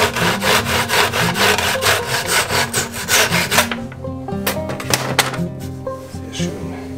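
A hand saw cuts through wood in quick, rhythmic back-and-forth strokes, close and loud. The strokes stop partway, followed by softer scattered knocks and taps.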